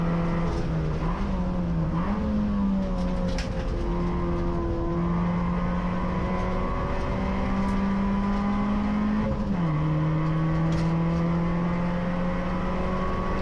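A race car drives hard through Island Bend at Oulton Park. A loud, continuous onboard engine drone holds high revs, dips briefly twice as the driver dabs the brakes, then climbs again. No talk is heard.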